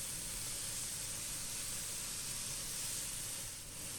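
Chicken wings sizzle steadily in a frying pan, a continuous close, even hiss of hot oil with no break or talk throughout.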